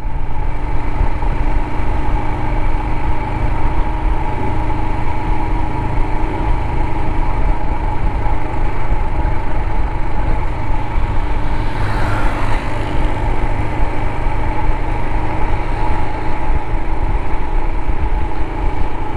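A Royal Enfield Himalayan motorcycle engine pulls steadily in third gear at about 4,000 rpm, a loud, even, smooth drone with a brief swell of wind or passing noise midway.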